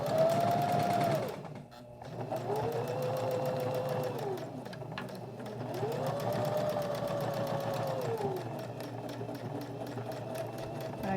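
A sewing machine stitches over ribbon on a fabric pouch and back-stitches, running in steady whirring bursts with a short pause near the start and a second longer run.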